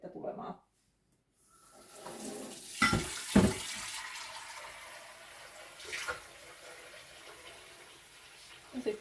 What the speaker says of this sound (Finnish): Laitetaan vettä tulemaan.